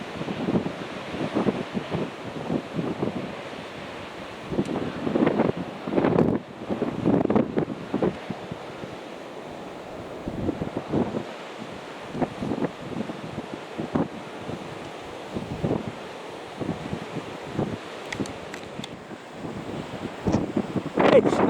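Waves break and wash against the shore and sea wall at Portgordon as a windy tide comes in, rushing surges rising and falling under steady gusting wind buffeting the microphone.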